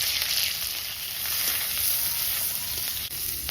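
A bay leaf and dried chilli sizzle steadily in hot oil, a bright continuous hiss that stays even and close throughout.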